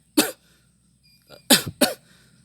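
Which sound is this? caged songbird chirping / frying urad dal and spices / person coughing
person coughing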